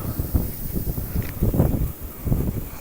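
Strong wind gusting through a neighborhood during a snow storm with blowing snow, roaring and buffeting the microphone in loud, uneven surges.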